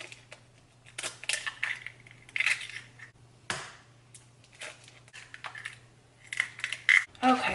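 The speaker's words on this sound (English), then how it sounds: "We're going to go ahead and just crack the eggs into here." Eggs are cracked into a plastic container: several sharp taps and cracks, irregularly spaced, with faint wet splats in between, close up in a quiet room.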